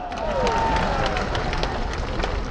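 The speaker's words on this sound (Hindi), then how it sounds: "कुमारी शैलजा के लिए जोरदार ताली मारो" A large crowd at a Congress party political rally claps loudly and steadily, dense continuous applause with some voices and cheering mixed in.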